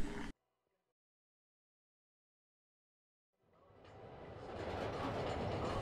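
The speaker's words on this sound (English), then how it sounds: "Don't mind me, just cybernetic Spider-Man on the train." Train ride in a Spider-Man video game: after a short burst and a long silence, a steady rumbling rail noise fades in and holds loud and continuous to the end.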